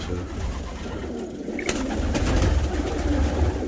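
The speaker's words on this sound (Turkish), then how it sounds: "Şu an karışma karışma kuşlarımız bunlar." Karışma pigeons in a loft in Kahramanmaraş, with soft cooing calls over a dense low rumble of background noise that grows louder and busier midway, close and steady, no speech.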